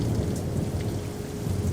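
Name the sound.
rain and thunderstorm sound effect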